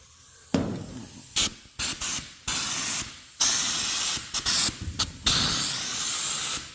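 Air spray gun applying Raptor spray-on bed liner to a truck bed rail at about 50 psi, loud bursts of hissing spray repeated in short and longer passes with brief pauses between.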